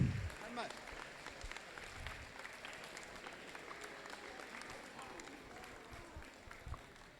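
An audience at a robotics competition awards ceremony applauds in a broad, fairly faint wash of clapping that lasts several seconds, with a few louder thumps and some murmuring underneath.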